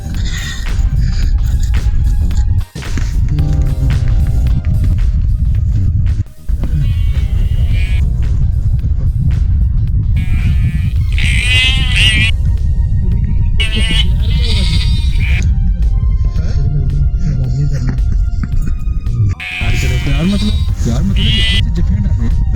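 Goats bleating near a reservoir and dam, several high wavering calls repeating at intervals over steady loud background music and noise.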